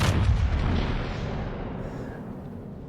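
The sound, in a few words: naval guns firing in the video game World of Warships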